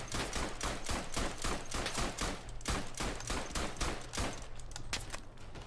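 Chauchat light machine gun in a World War I Verdun shooter game, firing a long run of rapid, evenly spaced shots, loud and close with no talking.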